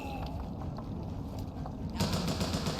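Gunfire from a shootout in the video game BioShock Infinite, sounding as rapid bursts of shots at a distance, with a louder, denser stretch of firing near the end.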